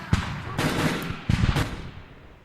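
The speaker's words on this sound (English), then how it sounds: "on the other side, all you hear is gunfire" Gunfire sound effect in a Halo tabletop session: a few short bursts of rapid automatic fire, separated by brief pauses, fading out at the end, with no talking.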